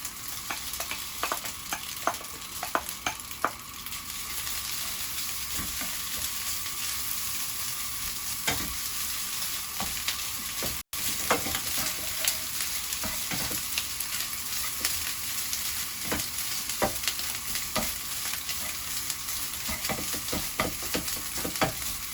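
Fried rice sizzles steadily in a hot pan while a spatula chops and stirs it, giving repeated sharp scraping taps over the continuous frying hiss, with one brief dropout midway.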